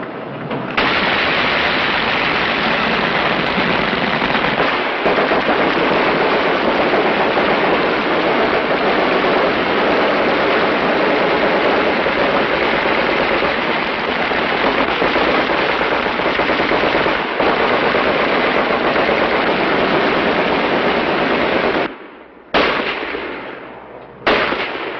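Sustained, dense automatic gunfire on a military firing line, a loud continuous roar of rapid shots that holds for about 22 seconds before cutting off abruptly, with a brief final burst near the end.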